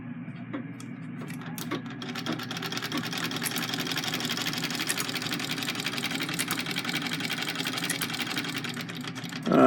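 A treadle sewing machine runs steadily with a continuous whirring mechanical drone and fine rapid needle clatter. The pace is even and close, with a faint knock near the start and a sharper noise at the very end.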